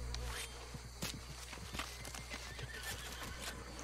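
Horse in Red Dead Online giving a clear whinny near the start, followed by steady clip-clop of hooves walking over a constant low game background hum.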